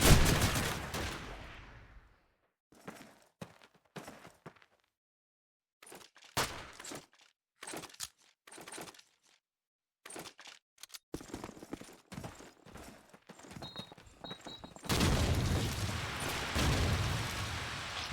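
Shotgun blasts in the Call of Duty 2 video game during a tournament final match, a series of sharp, loud reports separated by short silences, ending in a denser burst of gunfire.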